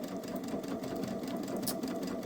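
A Babylock Solaris sewing machine fitted with a buttonhole foot darns over a frayed seam, a steady, quiet mechanical whir with a fast even stitching hum running throughout, heard alone.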